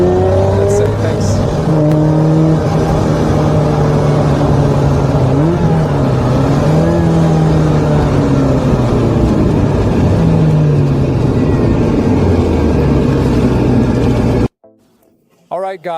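Ferrari 348 sports car driving with its engine loud and close throughout, the pitch rising and falling through gear changes over a steady roar, ending abruptly near the end.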